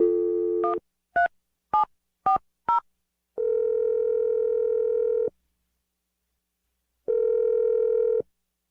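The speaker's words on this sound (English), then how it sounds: "I'm going to dial the phone number right now." A telephone handset being dialed: a burst of dial tone, then five quick separate keypad tones, followed by two long steady ringback tones separated by a silent gap, clean and close.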